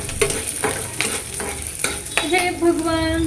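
Turmeric sizzling and burning in hot oil with chillies in a home kitchen, a loud crackling fry broken by repeated scraping stirs, ending in a higher, hissing spit.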